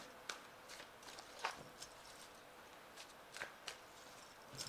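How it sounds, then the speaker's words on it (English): Tarot cards being shuffled at close range, a series of quick crisp riffles and soft slaps with short pauses between them, quiet and with no talking. "Let's just give it one more shuffle."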